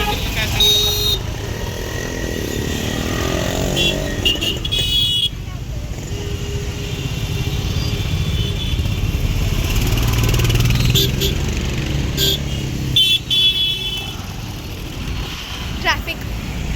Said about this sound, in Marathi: प्लस इथलं एवढं बेकार ट्रॅफिक, हडपसर आणि ते खूप बेकार ट्रॅफिक असतं.